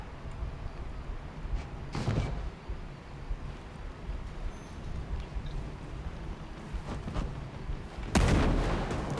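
Gunfire aimed at a truck in a video game: scattered sharp shots over a low rumbling background, with a prominent loud burst near the end.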